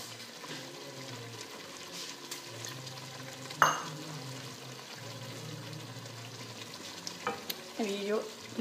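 Onion paste and meat curry sizzle steadily in a pan over full heat while being stirred, with a sharp scrape or clatter near the middle and a few clinks toward the end.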